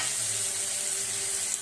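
Potato and eggplant slices sautéing in a pan for masala rice, a steady soft sizzle with faint stirring, close and continuous with no voices.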